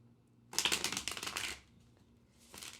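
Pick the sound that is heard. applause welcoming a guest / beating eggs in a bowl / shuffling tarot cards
shuffling tarot cards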